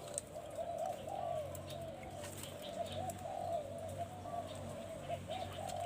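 Spotted dove decoy birds, large kept call birds, coo steadily in repeated phrases, fairly close, over a constant low background hum with faint chirps from other birds.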